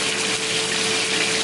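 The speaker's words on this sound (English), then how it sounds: "we're gonna just take each pieces of this and just let them sear in the pot" Pieces of beef steak sear in a small hot pot, giving a steady, loud, close sizzle that holds without pause.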